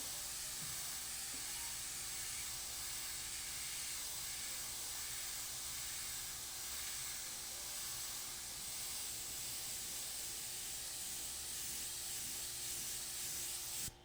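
An airbrush sprays paint in a soft, unbroken hiss that runs steadily and close throughout, then cuts off abruptly at the very end, with no voices.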